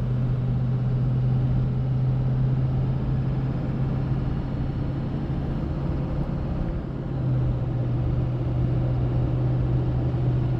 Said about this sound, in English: Just the slightest amount of road noise from the MT tires, but very manageable and tolerable.